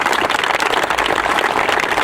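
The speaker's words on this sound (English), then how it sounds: "Let's give them a big round of applause" A big round of audience applause for Special Olympic athletes, dense and continuous clapping from a crowd, loud and even from start to finish.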